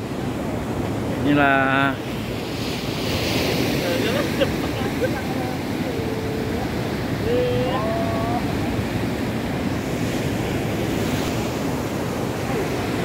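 Ocean surf at Batu Alafan beach rolls in a steady, loud wash with wind buffeting the microphone throughout, while someone speaks briefly and a few birds call over the roar.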